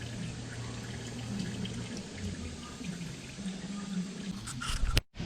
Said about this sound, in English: You can obviously see all the gas coming out of there.